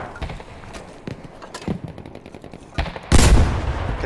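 Gunfire in a Battlefield V Firestorm match: scattered sharp rifle and machine-gun shots crack at close to mid range, then a louder, heavier burst of fire breaks out near the end.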